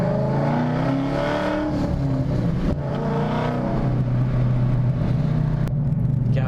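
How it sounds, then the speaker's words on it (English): A 2013 Mustang GT with a 5.0 V8 on E85 and Flowmaster Outlaw exhaust revs loud and close, with a deep rumbling drone and rising and falling engine harmonics that run steadily through the whole clip. "with this exhaust setup, you can probably hear it, and I'm not gonna lie, the drone is pretty awful"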